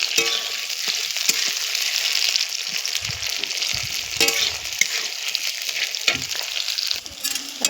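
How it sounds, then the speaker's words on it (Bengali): Spices fry in hot oil in a wok with a loud, steady, crackling sizzle up close, punctuated now and then by scraping stirs, and no one speaking. "আমার মশলাটা ভাজা হয়ে গেছে"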